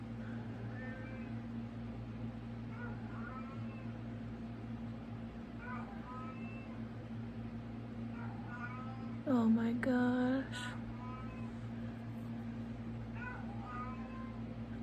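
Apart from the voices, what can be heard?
cat meowing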